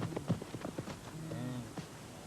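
Young wildebeest bulls run on dry ground at the end of the rainy season, their hooves making quick, soft, irregular thuds, moderately close and fairly faint, with a low animal grunt near the end.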